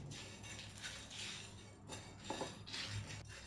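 Whole coriander seeds and dried chillies stirred in a pan for mango pickle, faint scraping and light metallic clinks of a spoon against the pan, quiet and intermittent.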